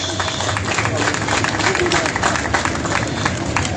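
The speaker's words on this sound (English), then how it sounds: "Can we give a big applause to these families of ours?" An audience at a graduation ceremony for the Liberia National Police and LDEA applauds the graduates' families, a dense, even wash of clapping and crowd murmur from a large gathering that runs without a break.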